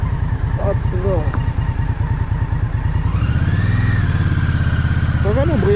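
Indian Scout motorcycle engine on a test ride, a steady close pulsing chug that deepens and swells partway through, with voices talking over it.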